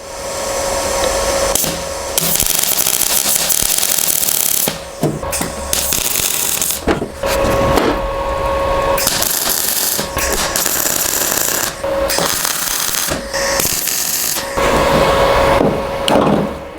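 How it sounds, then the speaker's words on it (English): Thin 1 mm steel on a car door panel is welded in a series of loud buzzing, crackling bursts separated by short pauses, with a faint steady hum in between. "So I'm going to spot weld it here and there, and then I will fill it up later."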